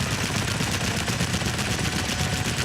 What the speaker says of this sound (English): I noticed the cannons on this thing are so strong.